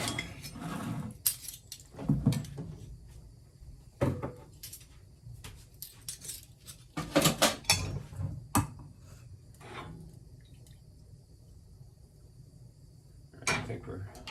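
Teaspoon of Swerve monk fruit erythritol sweetener spooned into a cookie mixture, heard as scattered clinks and scrapes of utensil against a bowl, several sharp taps amid quieter rustling.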